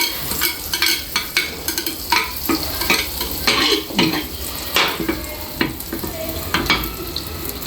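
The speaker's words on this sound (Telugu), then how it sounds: "బటర్ని కొంచెం కట్ చేసుకొని ఈ గ్రీజింగ్ చేయాలి, ఈ పాన్కి గ్రీజ్ చేయాలి." Butter sizzles in a hot pan as it is spread to grease it, with a steady crackling fry under repeated scraping and stirring strokes, close up and continuous, with no voices.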